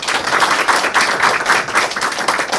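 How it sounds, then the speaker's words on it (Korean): An audience at a village education forum in Goesan claps to welcome a teacher to the stage, a lively, close, fairly loud patter of many hands with audible individual claps and no speech. "박수 부탁드립니다"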